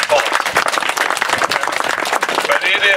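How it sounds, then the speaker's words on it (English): Outdoor crowd applauding volunteers at a park dedication, dense, loud clapping with scattered cheers and voices mixed in, sustained throughout. "Can we please give these guys a round of applause?"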